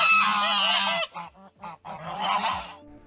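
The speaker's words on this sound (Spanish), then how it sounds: "y el silbido de los gansos." Geese honk loudly and repeatedly up close, a long harsh call followed by short bursts and then another sustained honking stretch.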